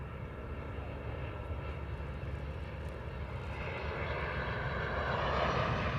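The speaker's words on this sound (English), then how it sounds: "We have to wait for the airplane to become apparent." Aircraft engine at an airport, a steady distant drone that slowly grows louder, with no talking.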